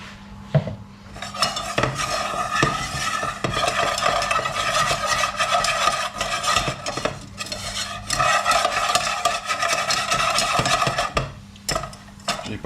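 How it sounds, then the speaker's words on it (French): A roux cooks in a pan on the stove while being stirred briskly and continuously. A spoon or whisk scrapes and clatters against the pan, close and fairly loud, over a soft sizzle. "On va cuire un petit peu le roux."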